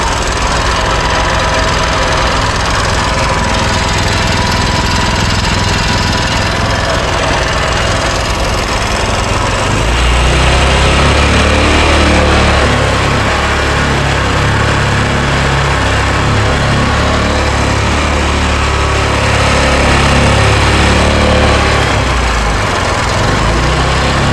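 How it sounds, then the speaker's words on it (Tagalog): Repaired generator engine running aboard a fishing boat, a loud continuous close-up rumbling drone with a rough knocking pulse, growing slightly louder partway through, with no talk. "Magandang andar, inayos ko yung generator eh."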